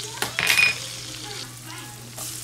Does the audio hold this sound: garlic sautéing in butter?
yes